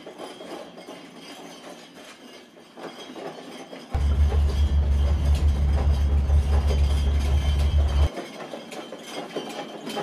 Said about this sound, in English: I hear the sound of the wheels on the railway track.